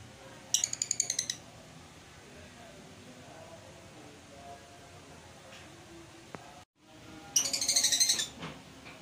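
A freshly caught wild bird calls from inside its cage in two short bursts of quick, high chirps, one near the start and one near the end, over a quiet room hum.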